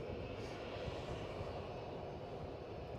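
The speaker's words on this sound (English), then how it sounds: "So Ryanair off to Porto." A Ryanair airplane taking off from Edinburgh airport, a steady, even roar of jet engines heard from a distance at moderate level, with no voices.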